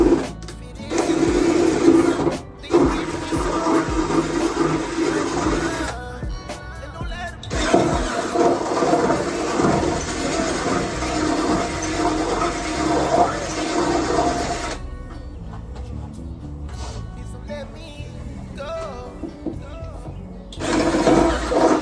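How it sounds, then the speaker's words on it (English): A large hole saw on a power drill cuts through a car body panel to fit an OEM Type SH wing on a Honda Prelude. Loud, steady grinding whir comes in long bursts separated by brief pauses, with some speech present. "Now that the small holes are done, we gotta go in there with the big hole saw."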